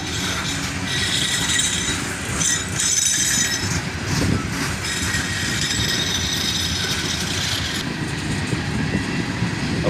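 A freight train with a cut of hopper cars, including Chicago and North Western cars, rolls past close by with a continuous heavy rumble, rattling wheels and some high squeals.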